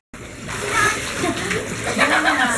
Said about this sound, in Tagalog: Tinatapon ng tubig.